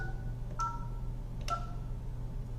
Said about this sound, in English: I'm going to type the extension that I want to transfer the call to.